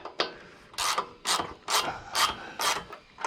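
A hand ratchet tightens a bolt while Progressive Suspension 412 shocks are installed on a Harley-Davidson Sportster Iron 883, giving about seven rasping clicking bursts in a steady back-and-forth rhythm, close and loud.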